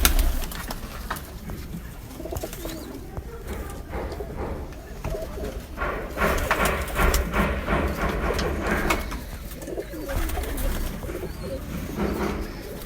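Teddy pigeons coo softly in a loft in Wassanpura, Lahore, low repeated coos alongside scattered flutters and rustling, with faint background noise throughout.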